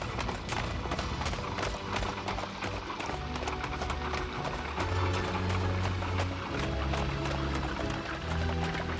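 Horses gallop with rapid, continuous clip-clopping hooves, loud and busy, with a rumbling undertone throughout.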